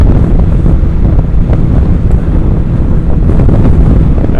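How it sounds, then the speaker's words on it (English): Heavy wind buffets the microphone in a loud, constant low roar with gusty fluctuations and no voices. "so it's windy out, it's fucking cold"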